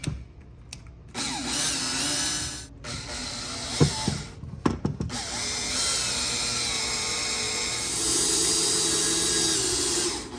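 Power drill boring a mounting hole for a smart sprinkler controller on a wall, running in long sustained loud bursts with a short stop and a few clicks between them, no voices.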